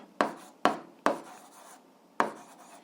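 Chalk or pen strikes a board in four sharp, close scratching strokes with short pauses between them, the sound of a physics formula for power being written out, quiet and without talk.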